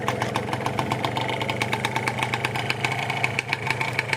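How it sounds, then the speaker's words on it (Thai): A 1990s Yamaha JR 120 S Super motorcycle engine idles close by, a loud, steady two-stroke putter with rapid regular firing pulses that hold through the whole stretch. "ขออนุญาตสตาร์ท ให้รับฟังนะครับ ถ้าสตาร์ทนะเดิมครับ ทีเดียวติดกับชึ่งเลย"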